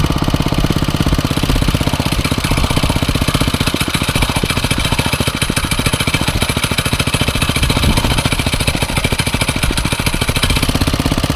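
A small engine runs after its choke is released, a loud, close, steady chugging idle with a fast, even, knocking pulse throughout.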